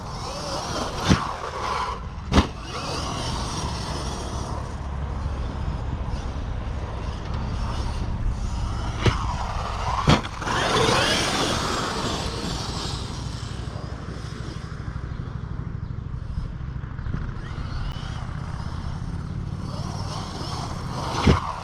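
An RC car drives laps on a busy track with a continuous buzzing motor whine that rises and falls, broken by a few sharp clacks from bumps or landings.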